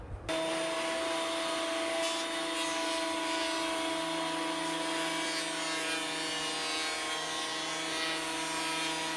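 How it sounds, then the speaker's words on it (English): A power planer shaves an ordinary 2x4 board down to 1 1/8 inch thickness. It gives a loud, steady, close whine with a constant drone that runs for the whole stretch. "I'm using this planer to plane down an ordinary 2x4 to 1 1/8 inch"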